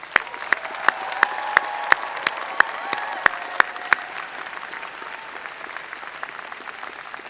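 Skidmore College's 115th commencement audience applauds family and friends with a broad, sustained patter of clapping, punctuated by regular sharp close claps during the first half before settling into an even, fading wash.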